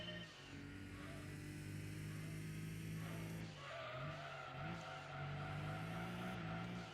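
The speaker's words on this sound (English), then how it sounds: "Supra will be a little bit harder to control through here because I can't power out quite as easily." A Toyota Supra races in Gran Turismo 2, its engine holding a steady droning tone that shifts pitch as the car powers through corners, with faint tire squeal and no talk.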